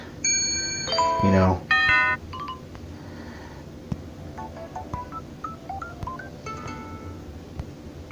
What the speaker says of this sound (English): so that's the sound that I want to hear whenever I get a text.